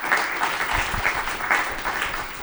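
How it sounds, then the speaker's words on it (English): Audience applause at a talk on artificial intelligence: a room of people clapping in a steady, moderately loud patter with slight swells, close and continuous, with no speech over it. "So, applause to you."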